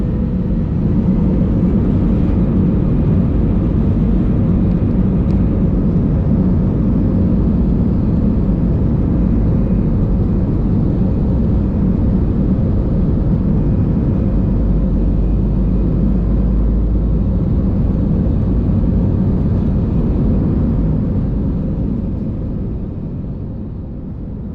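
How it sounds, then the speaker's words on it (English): An airliner takes off at Cologne-Bonn Airport: a loud, steady engine roar and rumble heard from on board, holding for about twenty seconds and then easing slightly at the end. "Okay, let's enjoy the takeoff."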